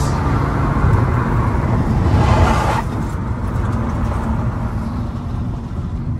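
A Maruti Ciaz and a Honda City in a drag race roar past as a loud, steady engine and road rumble that swells and then settles into a continuous drone.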